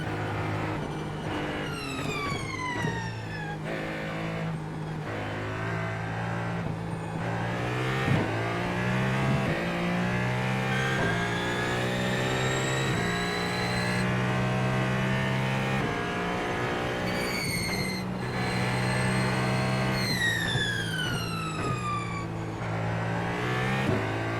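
Hypercar engine in a racing video game at the Nürburgring, a continuous loud high-pitched drone rising and falling with repeated throttle stabs and quick upshifts, with a few sharp revs over about twenty-four seconds.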